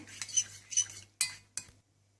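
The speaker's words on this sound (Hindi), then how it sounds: "इसको आप अच्छी तरह से मिला लें।" A spoon stirring and clinking against a bowl while mixing a spice paste of red chili powder, garam masala, salt and garlic paste, giving a few scraping strokes and then two sharp metallic taps before quiet.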